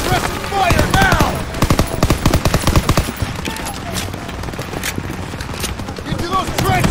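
Battlefield gunfire in Call of Duty WW2, with dense rapid rifle and machine-gun shots crackling close and loud, then thinning into scattered distant shots among shouted game voices.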